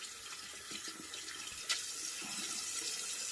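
Water runs steadily from a tap for a rinse in a barbershop, a soft continuous splashing hiss with one brief louder splash, no voices.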